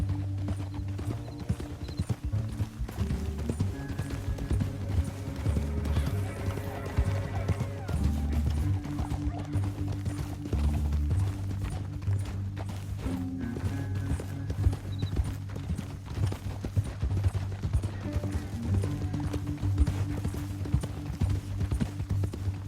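Steady clip-clopping of horse hooves in Red Dead Redemption 2 runs throughout, mixed with a droning musical score and a brief whinny partway through.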